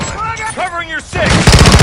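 Gunfire in Call of Duty Modern Warfare 2, a short loud volley of rapid shots breaking out near the end after a voice calls out over the combat noise.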